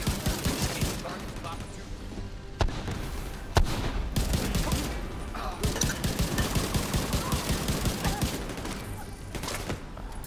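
Gunfire in The Division 2, Pentagon mission, dense rapid bursts of automatic fire with sharp single shots and thuds, loud and near throughout, with players' voices talking over it.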